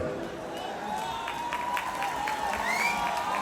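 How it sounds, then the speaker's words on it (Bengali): Crowd applause and scattered cheers ring out at a live stage show in Falakata, sustained and moderately loud with whistles and shouts rising over the clapping. "প্রত্যেকটা শিল্পীর জন্য এই হাততালির আওয়াজ এই সিগি এই উচ্ছ্বাস"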